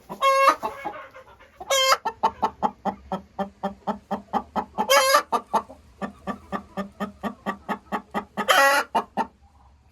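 Hens cluck inside a chicken coop in a fast, regular run of close, loud clucks, broken by several sharper squawking calls, with no talk.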